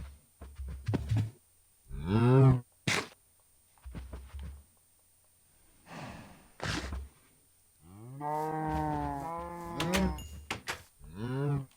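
Several drawn-out cow moos in a row, loud and close, with short pauses and clicking game-like sounds between them.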